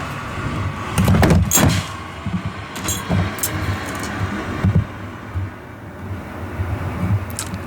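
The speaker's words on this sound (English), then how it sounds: "Loud ass car." A loud car passing by outside, a broad rumbling roar that swells and lingers through the whole stretch, with a few sharp clacks and knocks close by.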